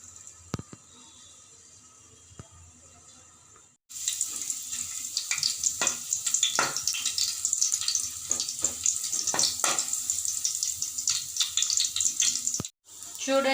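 Two pieces of crushed garlic hit a spoonful of hot oil and burst into a loud, continuous sizzle with crackling pops, close up, after a quieter lead-in with a few small knocks.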